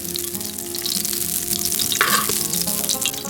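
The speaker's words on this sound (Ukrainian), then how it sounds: "всі інгредієнти обсмажуються в олії після ковбасок та бекону" English breakfast ingredients fry in oil in a pan outdoors after sausages and bacon, giving a loud, continuous sizzle and crackle, with stirring clatter around the middle.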